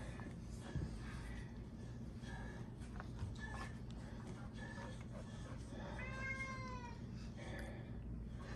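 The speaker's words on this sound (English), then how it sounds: "that's a crazy kitty" A cat lets out several drawn-out meows and yowls, one long wavering cry standing out, over a low steady hum with faint voices.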